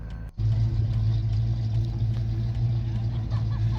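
A 1995 Ford Mustang muscle car driven slowly around a parking lot, a steady close low engine rumble at idle-like pace after a brief dip, with faint voices beneath.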